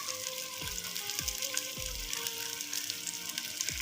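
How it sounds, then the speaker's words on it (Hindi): Mixed vegetables fry in a pan for a dhaba-style dish, giving a steady, close sizzle with scattered crackles and pops throughout. "तकरीबन हम इसको 3 से 4 मिनट तक भून लेंगे।"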